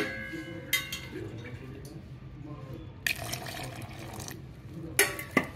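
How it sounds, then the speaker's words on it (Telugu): Ragi dosa batter made with rice flour and salt is stirred with a ladle after water is poured in, giving soft wet swishing, with a few sharp clinks of the utensil against the bowl, fairly quiet. "ఇందులో వాటర్ పోసి కలుపుకోవాలండి."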